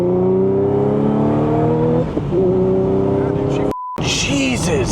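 A supercharged Audi S5 B8.5 with a small pulley upgrade and new injectors pulls hard in third gear, the engine's whine climbing steadily in pitch inside the cabin. Voices are heard, and the sound briefly cuts out before it resumes.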